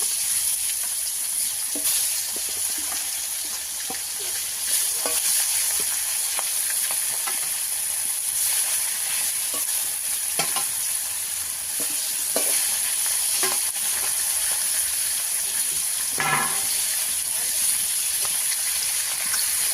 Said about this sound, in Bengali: একইভাবে এই মাছগুলো ভেজে নেব